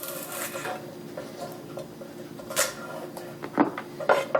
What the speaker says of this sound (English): And the celery, just split it down the middle.